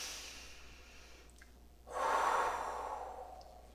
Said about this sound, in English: one more big deep breath in.